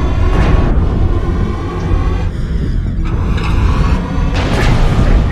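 A Gauss rifle firing in MechWarrior Online, loud and close: heavy booming discharges with sweeping whooshes come in a few bursts over a constant mechanical rumble.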